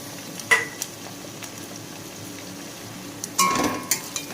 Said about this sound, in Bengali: এবার এর মধ্যে দিয়ে দেব ডুমো ডুমো করে কেটে রাখা ক্যাপসিকাম ও পেঁয়াজ।